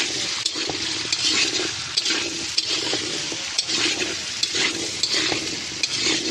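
Potato pieces with a little turmeric fry in oil in a pan, a continuous soft sizzling and bubbling with occasional stirring clicks and scrapes, fairly quiet and close.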